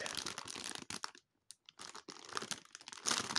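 Plastic packaging around a hairbrush crinkles and rustles loudly as it is handled up close, with crackling bursts broken by a brief quiet gap.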